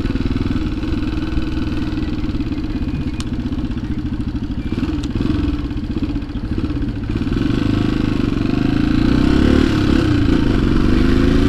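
A Honda XLX 250R motorcycle with a missing second gear rumbles steadily on a street, its close, loud engine idling and clattering before the throttle opens and the note rises and thickens near the end. No one speaks.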